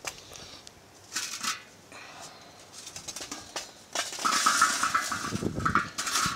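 Hot charcoal coals tipped out of a metal chimney starter into an outdoor grill, giving a rattling, clinking tumble of lumps with metallic scraping, louder toward the end, over light background noise.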